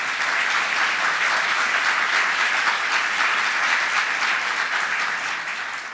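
Sustained applause from a sizeable audience at a gubernatorial inauguration, even and continuous, tapering slightly at the close.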